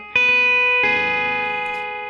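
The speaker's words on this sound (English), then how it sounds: "the guitar is going to have a reverb and a delay, a short delay on it." Electric guitar chords ring out with a short delay and reverb tail: a sharp strum, a quick echoed hit, then a second sustained chord decaying smoothly, clean and alone with no voice.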